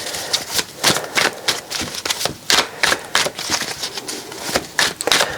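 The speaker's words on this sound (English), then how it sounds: "I'm in typical terrible shuffling mode" Tarot cards are shuffled by hand in a rapid, uneven series of crisp riffling flicks and slaps, close and clear, with short bursts separated by brief pauses.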